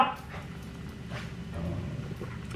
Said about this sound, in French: Les chiens m'énervent.